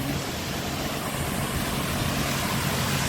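Water rushes through a traditional gharat water mill and spins the turbine beneath it. The sound is a steady, broad, close rushing roar that stays constant throughout, with no voices.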